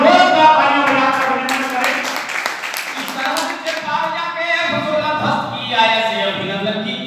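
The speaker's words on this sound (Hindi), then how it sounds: "एक बार जोर का तालियों में" Audience applause at a Hindi poetry recital (kavi sammelan) in Charkhari, a burst of clapping beneath a man's loud, continuous recitation that carries on over it.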